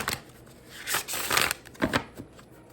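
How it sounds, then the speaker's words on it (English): Tarot cards being shuffled by hand, a few crisp riffling and sliding bursts close up, with quiet gaps between them and no talking. "So let's shuffle these real quick."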